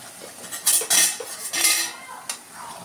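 Spices fry in fish oil in a pan for a katla fish head mung dal, with a metal utensil clinking and scraping against the pan in a few irregular bursts.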